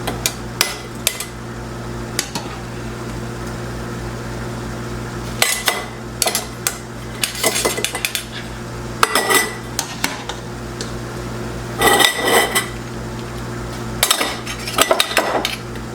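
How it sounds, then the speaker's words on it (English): A metal strainer spoon scoops boiled potatoes into glass canning jars, with scattered clinks, scrapes and clatters in bursts separated by quiet stretches, close and crisp over a low background hum. "I am going to use my little strainer spoon here to"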